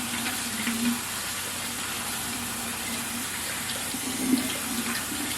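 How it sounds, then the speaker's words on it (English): Cold tap water runs steadily over nixtamalized dent corn in a wide bowl during rinsing, a continuous close splashing gush with slight swells, no voices. "Rinse it again, and I'm using cold water."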